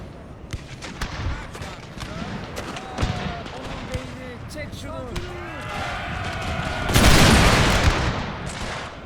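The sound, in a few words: musket volleys and artillery fire in the video game Total War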